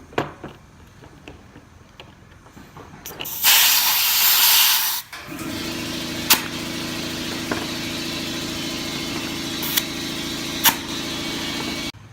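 A compressor or pump sends air into a push sled's front wheel tyre, giving a loud steady hiss for about two seconds. A running motor hum then carries on with a few sharp clicks over it, and no one talks.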